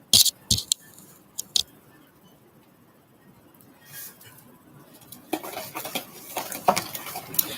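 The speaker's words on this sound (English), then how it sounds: "So you stir these up together." Ingredients being stirred together in a bowl while cooking, with a few sharp clinks of utensil against the bowl at the start and a burst of scraping and tapping near the end, separated by quieter stretches.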